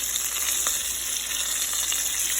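Fish fries in hot oil in a home kitchen, giving a steady, close, crackling sizzle with small pops throughout and no talking.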